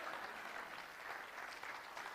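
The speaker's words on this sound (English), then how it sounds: "I notice the clapping's getting lower," A church congregation claps steadily through a sermon, a dense, even wash of applause at moderate, fairly faint level with no voices heard over it.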